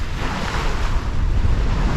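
Ocean waves roll and wind blows steadily across the microphone far offshore during a long sailing passage in heavy weather, a continuous dense rush with low rumbling surf and no voices.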